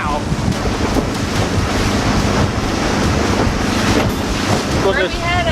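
Strong wind blasts over a small boat heading into a bay, a loud constant roar of wind on the microphone mixed with splashing water and waves against the hull.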